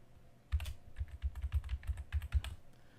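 Typing a single word on a computer keyboard in a design program, about a dozen crisp close key clicks in an uneven quick run after a short pause, without any talking.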